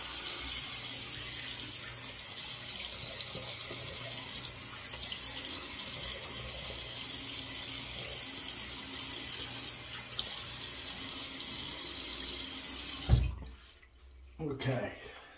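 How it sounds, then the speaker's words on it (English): Cold water pours steadily from a bathroom tap into a sink, a constant close splashing rush that stops abruptly near the end, followed by a few faint knocks. "now we'll go with the cold water."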